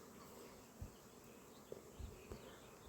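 Bees buzzing among acacia blossoms in a faint, steady hum, with a few soft bumps and taps now and then over a quiet outdoor background.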